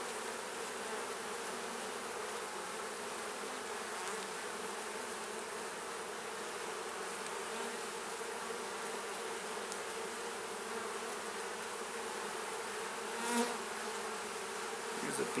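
Honey bees buzz steadily around a capped honey frame during a hive inspection, a close, continuous drone filling the whole stretch with a brief louder pass near the end.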